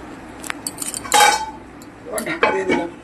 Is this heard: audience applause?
no